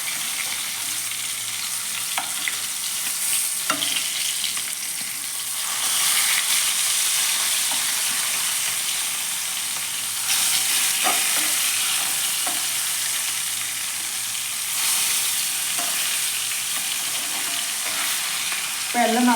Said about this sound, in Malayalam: അപ്പോൾ മീനിൻ്റെ ഒരു ഭാഗം നന്നായി ഫ്രൈ ചെയ്യാൻ വന്നിട്ടുണ്ട്.